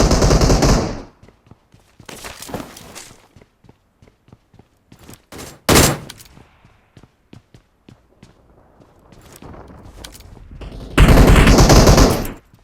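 Gunfire in a Turkish-played squad shooter game with an ocean adventure mod, loud rapid bursts of automatic fire alternating with quieter footsteps and single shots, no talk over it.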